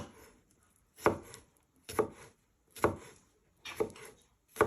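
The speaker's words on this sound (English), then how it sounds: "you just want to finely chop it into little pieces" A knife chops garlic finely on a board in about five separate bursts of quick, close taps, each followed by a short pause, with no talking.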